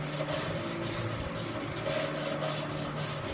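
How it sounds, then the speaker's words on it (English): Engine valves for an SB2-2 racing engine lapped into their seats with grinding grit: a continuous, gritty rasping rub pulsing back and forth in a steady rhythm, close and alone. "Start lapping. Let that grit work in there."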